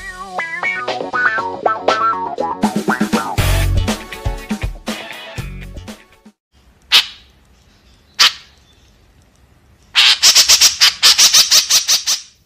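White-breasted woodswallow calls come as rapid runs of harsh, chattering chirps, then a few isolated sharp squawks after a quiet gap, ending in a dense burst of high, scratchy notes.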